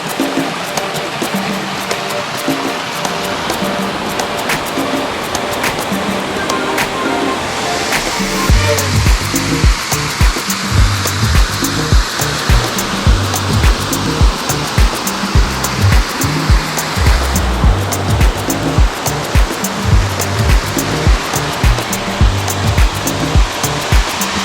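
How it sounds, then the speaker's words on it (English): Golden waterfall in Capitolio, Minas Gerais, Brazil, a loud, steady rushing roar of falling water that fills the whole scene and swells slightly in the second half. "Golden waterfall, I've never been to golden waterfalls before."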